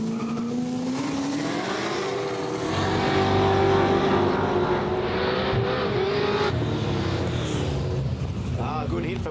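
A Toyota Corolla wagon racing on a street circuit, its engine revving hard and rising in pitch under a continuous loud roar, with tire noise and a commentator talking over it throughout.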